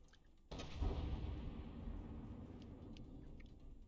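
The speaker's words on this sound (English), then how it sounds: "that missile strike" A missile strike in From The Depths sets off an explosion that opens with a sudden impact. A low, fairly faint rumble follows and fades slowly over several seconds.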